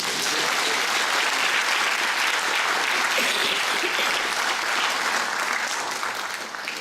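Dense, sustained audience applause at a gathering celebrating a director's literary prize, loud and steady from start to finish with no voices on top.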